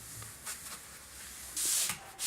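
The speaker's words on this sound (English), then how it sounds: "Wipe off the excess oil with a cloth and allow the floor to dry for about a day." A cloth wipes excess oil off an indoor wooden floor, making soft, hissy rubbing strokes with a couple of brighter swipes near the end. It is close and fairly quiet, with no voices.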